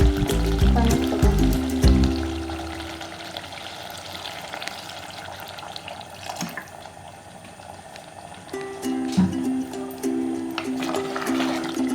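Water poured into a pan of chicken curry, its masala cooked through with the chicken, gives a steady liquid pour and sizzle that runs throughout, with a brief louder splash near the middle.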